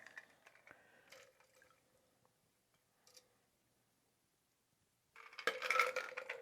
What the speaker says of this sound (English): here we've got a nice chilled coupe, and we're going to strain